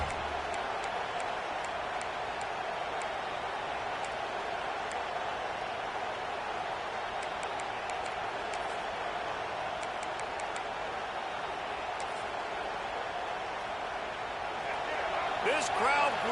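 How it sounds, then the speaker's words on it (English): A steady roar rises from a large crowd filling a football stadium at a Penn State game, heard from a distance under continuous broadcast commentary and building slightly at the end. "This crowd bringing the energy and noise early."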